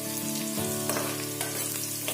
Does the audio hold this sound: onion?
yes